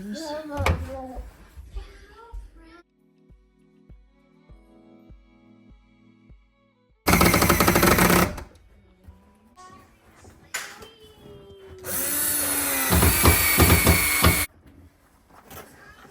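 A power driver sinking screws through a 2x4 frame into wall and ceiling studs for a shiplap fireplace wall, heard as two loud sustained whirring bursts between stretches of talk and quieter handling noises.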